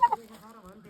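A rooster clucks twice in short, sharp bursts, then lets out a drawn-out, wavering call, close and clear, in a village water-source worship ritual before a sacrifice.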